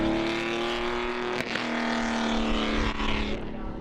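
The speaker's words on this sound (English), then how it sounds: "What a glorious sound of the engine as well" Ferrari Grand Prix Dino race car engine at a Knockhill race meeting, a loud sustained rasping drone that shifts pitch mid-way, with faint background voices.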